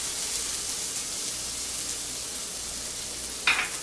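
Salisbury steak fries in a pan with a steady, close sizzle, and a brief louder spit of hissing comes near the end.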